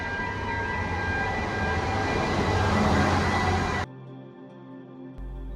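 A metro train arriving at an underground station gives off a loud, rising roar and rumble of wheels for a few seconds, then cuts abruptly to a quiet hum.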